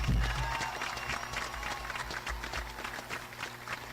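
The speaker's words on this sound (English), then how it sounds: "Please give them another round of applause." A round of applause at a 2023 high school graduation ceremony, fairly quiet and distant with a low rumble underneath, continuing steadily through the moment.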